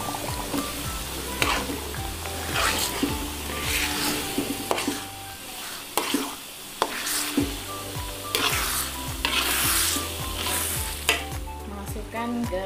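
Chili goes into a hot pan for sambal cakalang, sizzling loudly with repeated spoon-stirring scrapes and clinks against the pan over a constant frying hiss, with no voices.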